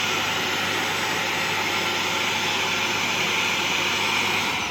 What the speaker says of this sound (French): j'ai aspiré volontairement avec vous pour vous montrer parce qu'il a une station de vidage